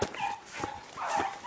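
Beagle hunting dogs give tonal baying barks on a rabbit hunt, several cries in quick succession, fairly near and outdoors.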